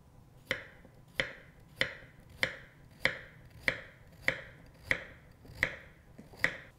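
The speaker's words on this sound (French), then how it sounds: "J'épluche une carotte. Je coupe les extrémités. Puis je taille en rondelles." A peeled carrot, ends trimmed, is cut into rounds with a knife on a board: ten crisp, evenly spaced chops in a steady rhythm, close and clear, with nothing else heard.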